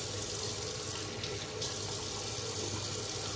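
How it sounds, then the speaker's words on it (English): Tap water runs steadily into a sink during a wet shave, a faint, continuous hiss and splash with no talking. "Get a bit more water on here."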